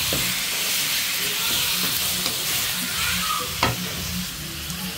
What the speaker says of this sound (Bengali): মরিচ কুচি, টমেটো কুচি একসাথে দিয়ে দিলাম। দিয়ে এখন নাড়া দিব।